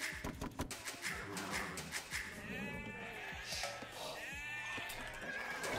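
Sheep bleat repeatedly in a real-time strategy match, several overlapping calls rising over a busy game soundscape with clicks and ambient effects, no talk.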